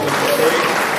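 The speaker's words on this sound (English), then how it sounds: "So let's give a round of applause for Mr. Kendrick" A short burst of audience clapping at an awards ceremony, a steady even patter lasting about a second.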